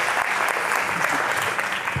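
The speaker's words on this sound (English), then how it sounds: "An applause for Ingrid" Attendees at a medical course on retinal detachment break into applause, a brief, steady wash of many hands clapping at moderate volume.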